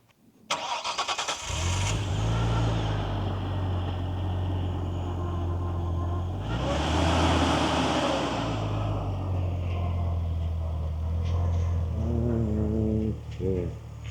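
Nissan Skyline R34 sedan starting up and idling, then its engine swelling as it pulls forward, a steady close mid-pitched rumble that runs throughout with no talking.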